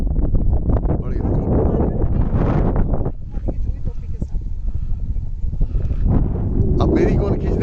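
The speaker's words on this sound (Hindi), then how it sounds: "बहुत तेज हवा चल रही है।" Gusty strong wind near the Bhima river roars and rumbles across the microphone throughout, easing for a moment before swelling again, with voices speaking over it.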